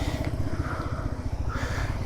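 A 1997 Suzuki Djebel 200 DR motorcycle engine runs steadily close by, a low, even, pulsing thrum with no change in pace.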